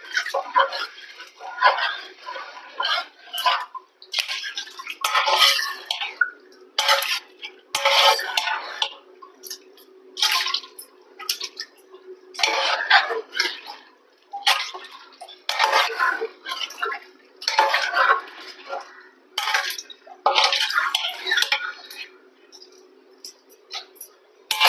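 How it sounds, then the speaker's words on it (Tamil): Seeraga samba rice is stirred into masala in a pot for a Tamil New Year biryani, with a spoon scraping and clinking in a steady, repeated stirring rhythm that stays close and fairly loud. "ரைஸையும் நல்ல மசாலாவோடு நல்லா கலந்துக்கணும்."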